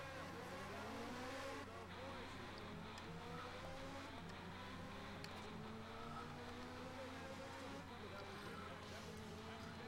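Race car engine in a Dreamcast racing game, a steady high revving whine that climbs and shifts through gears under continuous talking.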